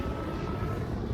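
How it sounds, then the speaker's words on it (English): A tour helicopter flies overhead near a beach, giving a steady, moderately distant droning rumble with no talking. "we got the helicopter doing tours"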